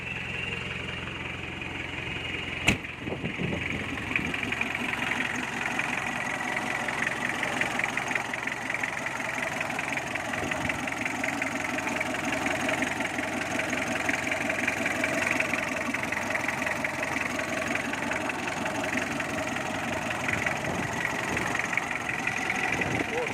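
A Mitsubishi L200 Cyclone with a 4D56 turbo diesel engine idles steadily and loudly close by for a long stretch, with a sharp click near the start and someone speaking now and then over the rumble.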